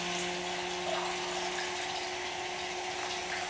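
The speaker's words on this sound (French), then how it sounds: "nous mettons la quatrième pompe en route" Small water pumps running together with a fourth one switched on, a constant mechanical hum with steady tonal whine and gushing water, even and fairly close.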